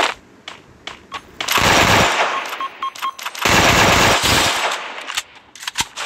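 Rapid bursts of video game gunfire land a headshot in a multiplayer match, with two long, loud sustained volleys between scattered single shots and short bursts.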